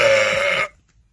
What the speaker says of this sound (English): Belch, and it was quite big.